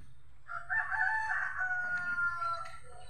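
A young rooster, about five months old, crows once in a single drawn-out call lasting a few seconds, fairly close and clear against a quiet rural background.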